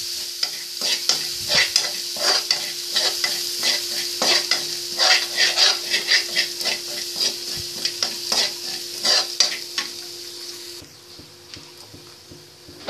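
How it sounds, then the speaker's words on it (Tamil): Ginger and garlic fry and are stirred in a pan for egg curry, giving a steady close sizzle with repeated scraping stir strokes, with no voices over it. "இப்போ இதில் இஞ்சி பூண்டு ஆட் பண்ணுறேன்"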